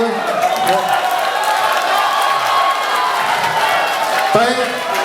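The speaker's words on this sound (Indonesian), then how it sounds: "kita beri tepuk tangan dulu" Audience applause and cheering at a public debate for a regency election, a steady crowd wash of clapping filling the hall for the full stretch, with voices mixed in.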